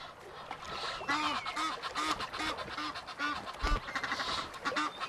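Egyptian geese honk repeatedly in harsh, rapid bursts along a river in the Serengeti, several birds fighting loudly and close by, with rustling and splashing between calls.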